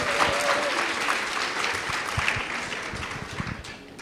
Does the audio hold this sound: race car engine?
no